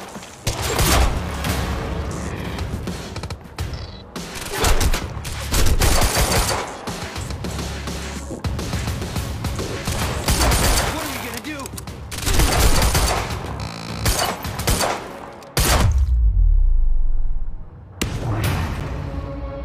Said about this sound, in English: Stop fucking shooting at us!